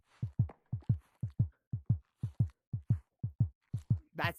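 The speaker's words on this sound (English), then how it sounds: "You're hearing my heartbeat in real life" A person's heartbeat pounds loud and close while they play a virtual reality game of crawling through the tight Nutty Putty Cave, with about twelve steady double-thump beats in an even rhythm and no talk over them.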